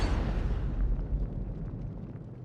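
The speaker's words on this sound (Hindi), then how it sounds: "ऐसा धमाका कि उनके कान के पर्दे फट गए।" A large explosion blast, a deep roaring boom that rolls and slowly decays over a couple of seconds, loud and alone.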